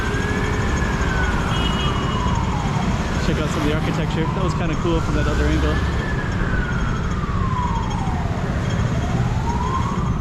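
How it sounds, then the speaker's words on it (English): An ambulance siren wails in long rising and falling sweeps through steady street traffic noise in Macau while someone talks over it. "Got an ambulance as well."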